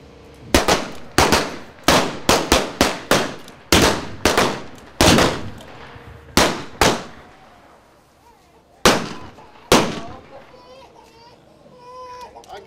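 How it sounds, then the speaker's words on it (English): Blank gunshots fire in rapid succession during a staged Wild West gunfight show, a dozen or so sharp, loud bangs in irregular clusters, with a bright metallic ring fading after the last shots. "Well, that was the gunfight."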